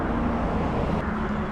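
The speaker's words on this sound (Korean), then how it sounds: "뒤에서 커다란 소리를 내며 지나가는 차들은 땅이 울릴 정도로 위압감이 든다." Cars rush past close behind on a narrow-shouldered mountain road at Bakdaljae pass, a steady loud broadband roar of traffic with no pauses or talk.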